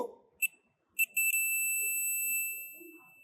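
A multimeter set to continuity beeps while probing a capacitor base on an ECM board: two short chirps, then a stuttering start into a sustained high beep lasting over a second, with faint handling noise beneath.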